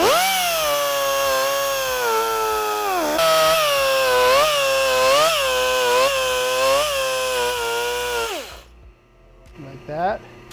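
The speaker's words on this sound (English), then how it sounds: "now we're going to switch to the 1/4 inch belt sander" A quarter-inch belt sander whines loudly and steadily as it rounds a bicycle frame seatstay, its pitch dipping and recovering under load several times before cutting off near the end.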